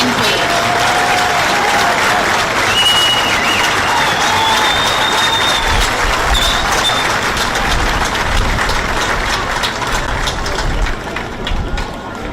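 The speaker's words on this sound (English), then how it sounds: "Please give a round of applause to congratulate Greg and Susan as this year's festival King and Queen." A crowd at a Swedish heritage festival applauds for the newly named festival King and Queen, sustained dense clapping with a few whistles, loud and steady throughout before thinning slightly at the end.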